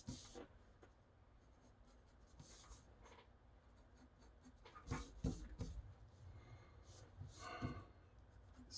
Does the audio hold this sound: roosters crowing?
no